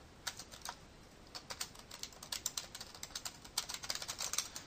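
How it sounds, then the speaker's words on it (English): Typing on a computer keyboard, with quick, light key clicks arriving in uneven bursts and short pauses. The keys sound faint and close, over a steady low hiss. "So I'll type something here."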